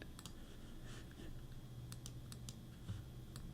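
Mouse clicks in Adobe Photoshop during old photo restoration, heard as a scattered series of light, close, quick clicks over a low steady hum, with no talking.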